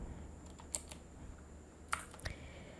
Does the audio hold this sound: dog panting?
no